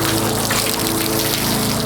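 A steady, loud spray of water rinses soap off a car's paint during a detailing session, forming a continuous close hiss and wash with no talking.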